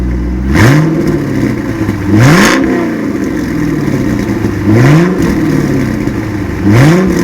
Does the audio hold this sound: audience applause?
no